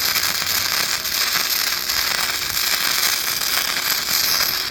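Continuous crackling and sizzling from a bestarc MIG 145 gasless flux-core welder as it welds through paint and grease, a dense steady hiss lasting throughout with no talking.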